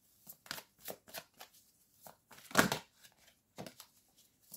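Playing cards riffled, slid and drawn one at a time, a series of crisp papery flicks and snaps in an irregular rhythm, close and fairly quiet, with one louder burst midway and no talking.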